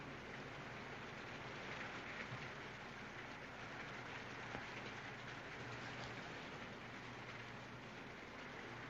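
Steady rain falls as a dense, even hiss of drops on surfaces, holding constant throughout with a faint low rumble beneath. No letup is audible.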